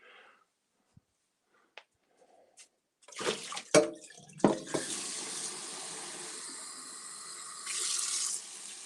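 Kitchen tap running water into a cat's bowl: a few faint clicks, then the faucet turns on with splashing that settles into a steady stream and swells slightly near the end.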